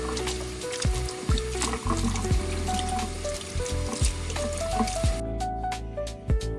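Chicken rinsed in vinegar water under a running kitchen tap gives continuous splashing and trickling, broken by repeated clunks and shifting gurgles as the meat is moved and handled in the sink.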